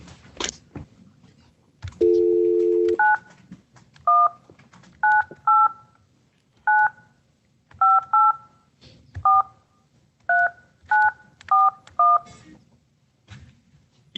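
A touch-tone telephone dials a correctional facility: one long steady tone, then a dozen crisp, evenly spaced keypad beeps in short groups, close and clear, with no voices.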